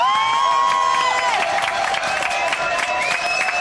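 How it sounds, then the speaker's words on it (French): A crowd claps and cheers continuously, dense applause filling the whole stretch with a few shouts and whistles rising over it. "Applaudissements."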